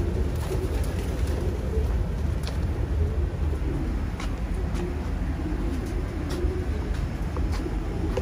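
Racing pigeons cooing and stirring inside a loft in Japan, a steady close bed of soft bird sounds over a constant broadband hum, with occasional sharper clicks and flutters.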